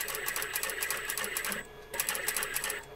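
A sewing machine stitches a fabric seam with a fast, even mechanical rattle that is close and steady, stops briefly midway, then runs on again.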